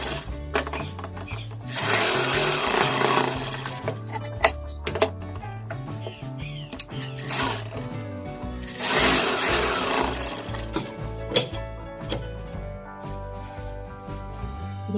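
A sewing machine runs in long, loud stitching bursts through gents' pajama fabric, with short pauses and clicks between runs as the cloth is repositioned.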